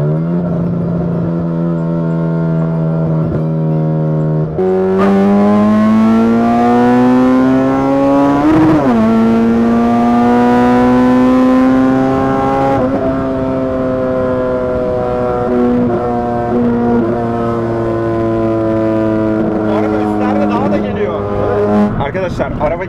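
A 1997 Honda's engine revs hard as the car accelerates, its loud pitch climbing steadily through each gear with brief dips at the shifts, close and continuous.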